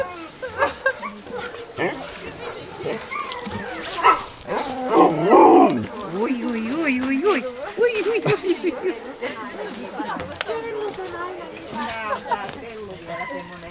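Siberian huskies at a racing kennel in central Finland bark and whine in a snowy setting, with yips and yelps running throughout at close range, mixed with people talking.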